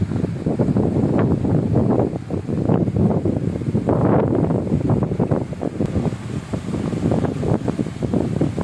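Steady blustery wind roars across the microphone, a constant low rumble with gusting swells throughout and no voices.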